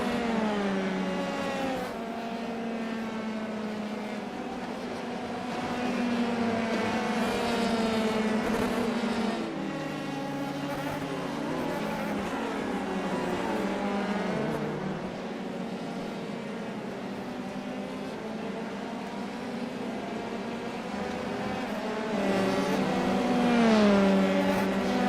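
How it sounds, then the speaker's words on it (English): F3 race cars lap Oschersleben in qualifying, with a constant loud engine drone whose pitch sweeps up and down through shifts. Other cars swell in and fade out over the stretch, and no one speaks. "let's crank up the noise for a little bit and enjoy some F3 cars"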